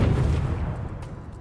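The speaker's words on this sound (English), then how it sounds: "an explosion happening far away" A distant explosion sound effect for game sound design: a muffled low boom that fades quickly into a soft rumbling tail.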